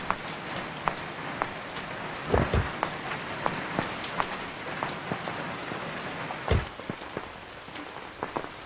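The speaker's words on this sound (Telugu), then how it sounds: "ఇంత వర్షం, ఆ చెమటేంటి?" Heavy rain pours steadily with a dense hiss, and louder drips and splashes punctuate it now and then, with no voices over it.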